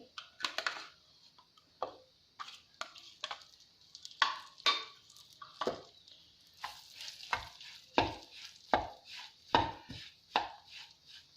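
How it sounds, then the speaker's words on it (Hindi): Gram flour being roasted in ghee over low heat for halwa, with repeated scraping and stirring strokes of a spoon against the pan in an irregular rhythm, close and fairly quiet, no talking. "बेसन भूनते हुए बहुत जल्दी मत करें, हल्की आंच पर आप इसे भूनेंगे"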